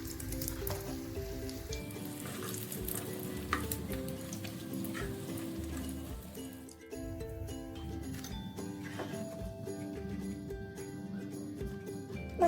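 Chicken spring rolls frying gently in oil over low heat, a steady soft sizzle running throughout with occasional stirring and utensil clinks against the pan.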